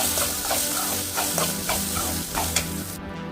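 Rice stirred into fried curry leaf powder in a hot pan, a close, steady scraping and sizzling with repeated soft strokes throughout.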